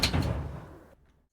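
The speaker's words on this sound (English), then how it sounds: "This one kind of works as like a door opening sound." Redesigned robot door-opening effect for Titanfall 2, a single heavy mechanical whoosh and thud with a bright metallic start that decays over about a second into a short tail.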